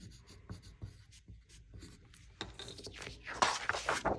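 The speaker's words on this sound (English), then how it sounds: "let's go ahead and put your name on the back." A pencil writing a name on the back of a sheet of paper, soft intermittent scratching strokes that grow busier toward the end, close and quiet.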